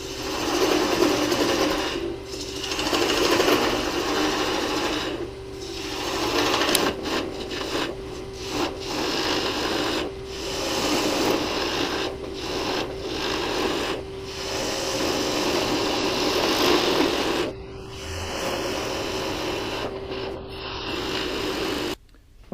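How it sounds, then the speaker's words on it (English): A wood lathe turns a small Christmas tree while a cutoff tool shaves a tenon, giving a steady close whirring hum overlaid with scraping cuts and brief pauses, with no talk. "We'll be doing that with the cutoff tool here in a moment."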